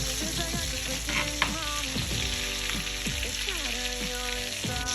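Striploin steak searing in a pan with garlic butter and herbs, a loud steady sizzle and crackle of frying with occasional scraping and stirring clatter throughout, no talking.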